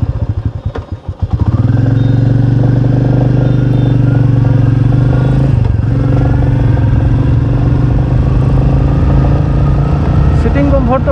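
Royal Enfield Meteor 350 cruiser motorcycle engine starting up and settling into a loud, close, steady idle thump, with a brief rise in revs midway and voices faintly underneath.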